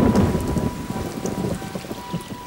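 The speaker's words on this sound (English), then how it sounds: "the rainy season descends on Copan" Steady heavy rain pours down during the rainy season at Copan, the Maya ruins in Honduras, with a low rumble of thunder rolling beneath the dense patter throughout.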